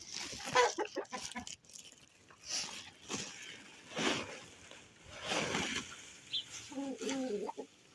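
Chickens cluck in short scattered bursts, fairly close, with rustling and handling noise in between, as chopped grass is brought to them in a coop.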